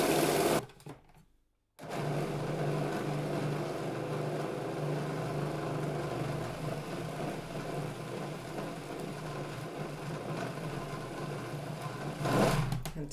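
A kitchen blender whizzes up ingredients for a beauty bar mixture, running with a steady, loud motor whine after a brief stop-start at the beginning, heard alone.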